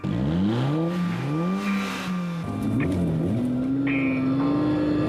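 A sports car engine revs hard with launch control and accelerates close by, its pitch climbing through several gear changes with a loud, continuous roar.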